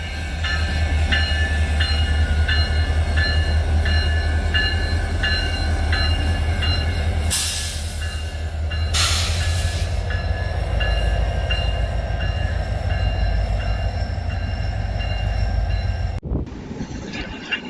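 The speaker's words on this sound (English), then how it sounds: "a GP 39-3 with a friendly crew shoving the BN caboose east" GP 39-3 diesel locomotive shoving a BN caboose east through a railroad park in Rochelle, Illinois: a loud, close, steady engine drone with rolling wheel noise, broken by two short bright bursts, then cutting off abruptly near the end.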